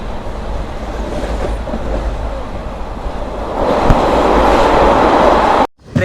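A passenger train near Karwar railway station runs through a tunnel, its loud, close rumble swelling into a heavy roar partway through before cutting out abruptly just before the end.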